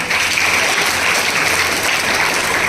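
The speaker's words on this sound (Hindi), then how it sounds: "एक बार स्कूल के लिए जोरदार तालियां" An audience applauds a school in a loud, steady burst of dense clapping that continues evenly throughout, with no voices standing out.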